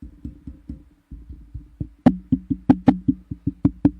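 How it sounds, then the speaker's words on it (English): Repeated knocks thumping directly on a MAONO PD300X XLR/USB podcast microphone, a quick uneven series that grows louder and sharper in the second half. "so there's a lot of knocking coming in"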